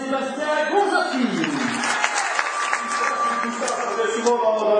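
Audience applause at an RFC Liège football club gathering, a steady wash of clapping lasting the whole stretch, with voices and some laughter mixed in.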